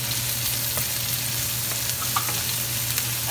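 Onion and garlic frying in a pan for Filipino chicken afritada, an even, dense sizzle up close with a few faint clinks of a utensil and a low steady hum underneath.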